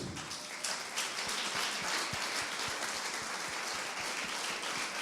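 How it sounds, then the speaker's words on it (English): Applause from an audience at a business presentation on the global market, a steady, moderately loud patter of many hands with a few sharper individual claps, no voices. "I think we should also give him an applause, to him and all his team."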